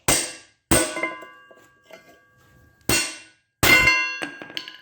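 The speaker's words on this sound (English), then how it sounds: "we just use a flat disc of metal and hammer it in until it's flush" Four sharp metallic clangs from a hammer striking a flat metal disc into a 1948 Ferguson TE20 tractor axle pin hole until flush, each ringing briefly before fading, spaced irregularly and up close.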